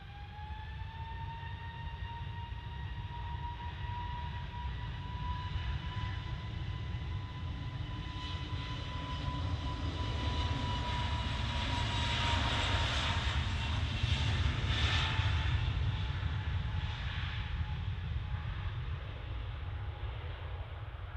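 A jet airliner takes off at Manchester Airport, its engines building into a loud, sustained roar that swells toward the middle and holds throughout, heard alone without voices.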